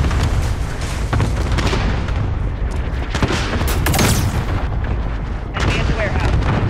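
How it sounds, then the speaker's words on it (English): Cluster strike explosions in the game Call of Duty Modern Warfare, a loud, continuous barrage of close booms and rumbling blasts with gunfire mixed in and radio voices talking over it. "Cluster strike away."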